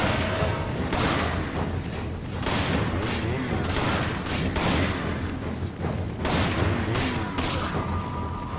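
Magnum gunfire in the video game Resident Evil 5, a dense barrage of booming shots, crashes and thuds running continuously and loudly throughout, thick with game action noise.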